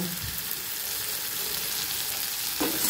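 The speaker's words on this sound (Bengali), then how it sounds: "এবার এর মধ্যে আলু করলা ঢেলে দেব" Potato and bitter gourd frying in a pan with turmeric, a steady close sizzle with a brief stir toward the end.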